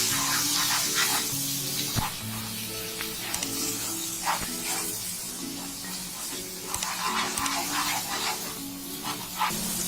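Cashews and salt are stirred in hot oil in a kadai, making a continuous loud sizzle and spitting hiss with scraping stirs, for a Bengali paneer dish.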